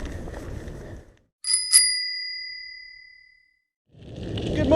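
Two sharp bell dings ring out close by on a mountain bike ride, their bright tones hanging and fading over a few seconds in a quiet gap between stretches of rolling tyre and wind noise.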